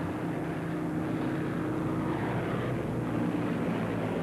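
A P-51 propeller-driven warbird airplane drones overhead, a steady broadband engine and propeller roar that holds evenly throughout at moderate distance.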